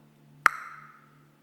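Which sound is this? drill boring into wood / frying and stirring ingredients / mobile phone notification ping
mobile phone notification ping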